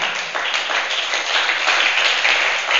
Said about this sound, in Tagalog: Mahina ang palakpak.